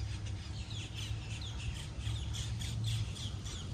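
Many birds squawk and cackle over one another in a steady, noisy chorus by the water in downtown Eustis, Florida, with a low rumble of wind or water beneath.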